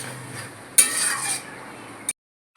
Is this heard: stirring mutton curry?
yes